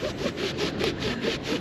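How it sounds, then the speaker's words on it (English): A rag rubs dirt off a Jeep's brake lights in quick, rhythmic back-and-forth strokes, close up and fairly quiet, with roughly eight even swipes. "I also need a moment to clean off my brake lights because"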